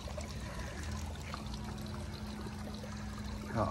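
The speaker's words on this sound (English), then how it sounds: "How about this for a water fountain, huh?" A water fountain trickling and dribbling steadily, soft and close, with a faint low hum beneath and a brief louder splash at the end.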